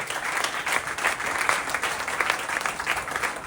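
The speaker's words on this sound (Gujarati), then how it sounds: "મહારાજાને પણ આપણે તાળીઓના નાદથી વધાવીએ" An audience at a temple festival assembly applauds to honour the Maharaja, a dense, sustained burst of many hands clapping at moderate distance, steady throughout without speech.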